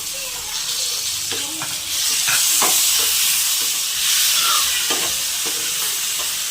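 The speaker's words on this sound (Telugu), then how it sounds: "దీంట్లో టమాటాస్ వేస్తున్నాను" Tomatoes frying in a hot pan, a loud continuous close sizzle with intermittent stirring scrapes, no talk.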